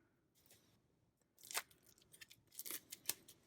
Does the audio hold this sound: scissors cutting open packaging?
yes